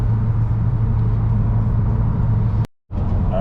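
A 2022 Honda Civic Si on a 21 PSI tune rolls into acceleration in third gear from about 2500 RPM, giving a loud, steady engine drone that cuts out briefly near the end before returning.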